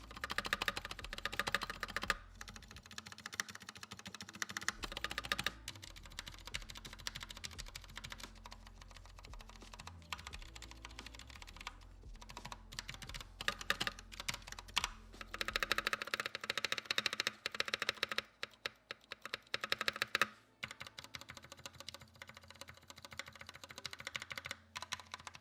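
Fast typing rattles on a GMMK TKL keyboard with Holy Panda switches and modified stabilizers, a steady run of close, fairly quiet clicks and thocks with occasional heavier spacebar hits and no voices.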